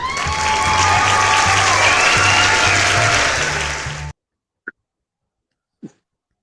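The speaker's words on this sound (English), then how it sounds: "Golf clap." A golf clap in the form of a burst of dense, lively applause that holds steady for about four seconds and then cuts off abruptly, followed by two faint isolated clicks in near silence.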